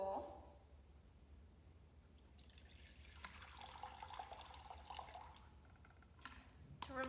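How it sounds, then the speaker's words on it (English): Water is poured from a jug into a bowl for a children's chapel hand-washing; after a quiet start comes a faint trickling splash lasting a few seconds, then a couple of soft drips. "And so we're going to pour the water into the bowl."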